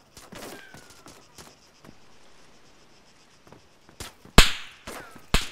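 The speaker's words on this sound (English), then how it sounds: "Where was gunshots from?" Gunfire in the military shooter game ARMA 3, scattered sharp shots with a faint crackle early on, then a quiet stretch before a cluster of loud, close cracks near the end.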